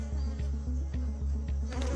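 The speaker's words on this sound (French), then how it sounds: "Il y a trop d'abeilles." A swarm of bees droning steadily and loud close by at a hive site, a continuous buzzing hum with a slight regular pulse throughout, no voices.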